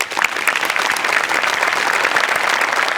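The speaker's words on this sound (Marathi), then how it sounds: "तुमच्या दोघांसाठी टाळ्या व्हायला पाहिजे." Continuous, lively applause from a comedy show audience for two dancers, a dense wash of many hands clapping at once that holds steady throughout.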